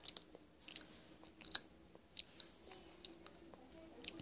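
Close, quiet chewing and soft crunchy bites of sausage from a lunch box, with irregular mouth clicks and smacks spread across a few seconds.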